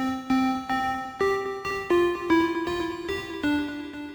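A bright Serum synth lead preset plays a stepped melody of separate sustained notes, each entering with a clear attack, loud and dry with no voices.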